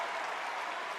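A brief burst of steady audience clapping at a political convention, many hands together at moderate distance, fairly quiet and even throughout.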